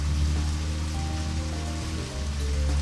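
Steady rain falls in the video game Deadly Premonition, a dense, even hiss of drops on surfaces with a low rumbling bed beneath, continuous and fairly loud throughout with no speech.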